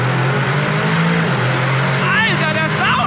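Aston Martin DBX 707 engine roaring loudly at a launch with wheels spinning, a steady low rumble held throughout while a voice speaks briefly near the end.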